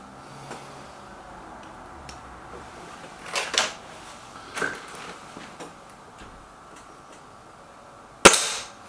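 An air rifle, a Gamo Whisper Sting or an SMK XS36, fires at a target: scattered faint clicks and knocks lead up to one sharp, loud crack near the end.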